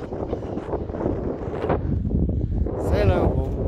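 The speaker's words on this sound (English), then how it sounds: "A bit breezy." Steady wind buffets the microphone on a breezy seafront at Morecambe, a continuous rushing roar that swells toward the end, with people talking over it.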